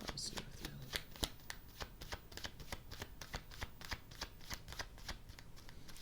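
Tarot cards being shuffled by hand up close, a steady run of crisp riffling flicks repeating at a quick, even pace, with a voice talking faintly underneath.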